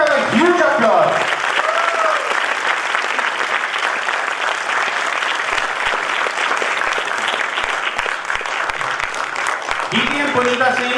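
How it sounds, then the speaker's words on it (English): A Toastmasters meeting audience claps loudly and steadily for about ten seconds, a dense continuous wash of applause, with a presenter's voice heard briefly at the start and end. "Let's have a huge applause."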